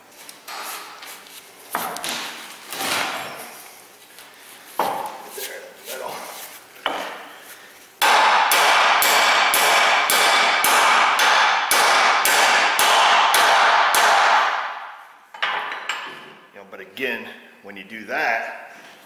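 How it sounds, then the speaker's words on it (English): A hammer beats universal-joint cups out of a driveshaft: a few heavy, spaced metallic blows, then a loud sustained stretch of rapid repeated strikes, then more separate hits, with talking in between. "and then you just got to beat the U-joint cups out"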